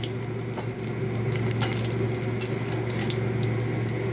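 Whole cumin and dried chilli sizzling steadily in hot mustard oil in a kadai, a close, continuous crackling hiss with no talk.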